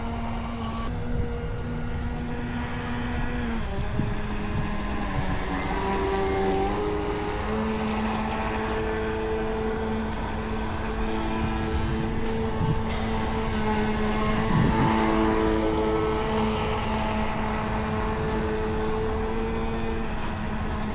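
An RC boat fitted with a new ESC runs on open water, its electric motor whining steadily at close to moderate distance, pitch rising and falling as the throttle changes, with no talk over it.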